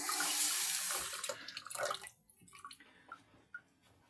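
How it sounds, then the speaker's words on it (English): Running tap water splashes over hands at a kitchen sink while cooking Danish frikadeller, loud and steady for about two seconds, then cut off, leaving a few scattered drips and small splashes. "Quick wash of my hands."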